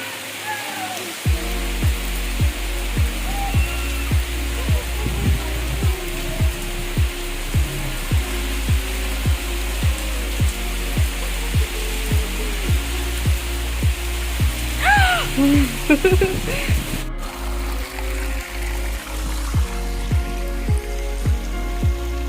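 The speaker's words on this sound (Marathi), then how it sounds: "या पाण्याचा आवाज पाहून तुम्हाला अंदाज लागलाच असेल या ठिकाणी किती पाऊस झालेला आहे" Loud, steady rushing water after heavy rain roars throughout, with a regular low thumping pulse running beneath it and no voices.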